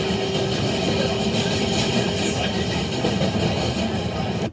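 Steady broadband rumble of an MTA subway train riding underground, a continuous roar with a faint high whine, close and loud throughout, no voices.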